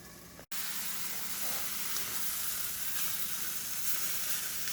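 Potatoes sizzling in a covered frying pan, a steady loud hiss of oil and steam that runs continuously after a brief cut near the start.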